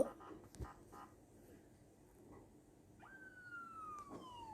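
A police siren drifting in from outside, faint and distant, a single long falling wail that begins late, after some scattered low room knocks and rustles.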